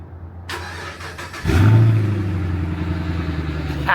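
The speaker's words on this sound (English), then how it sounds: "let's take these keys and see if we can get a quick little cold start real quick." A 2011 Chevy Camaro SS V8 cold-starts: a short starter whir, then the engine catches with a loud rumbling burst and settles into a steady, throaty idle close by.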